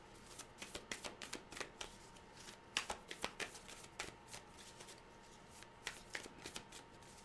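A tarot deck is shuffled by hand in a series of crisp, quick riffling and clicking bursts, fairly quiet and close, with short pauses between them and no talking.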